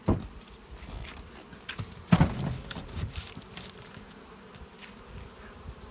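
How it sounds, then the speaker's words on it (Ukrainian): Small mason bees buzz around close by, with thin hums drifting in and out over a soft outdoor background and a few light knocks. "Зараз покажу, як вже в мене осмії літають."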